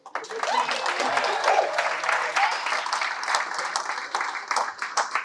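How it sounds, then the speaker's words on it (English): An audience applauds, a dense burst of clapping that stays strong for several seconds and then thins out toward the end. "Everyone please clap."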